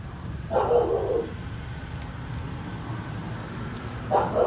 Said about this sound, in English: sounds like a big scary dog